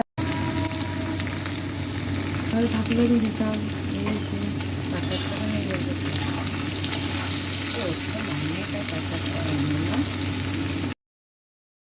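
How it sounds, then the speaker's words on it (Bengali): Potatoes, onion and slit green chilies frying in a pan for egg chowmein, a steady close sizzle with spatula stirring scrapes while someone talks over it, ending in abrupt silence. "আলুটা একটু ভাজা ভাজা হয়ে গেলে তাতে পেঁয়াজ দিলাম কাঁচা লঙ্কা চিড়ে দিলাম"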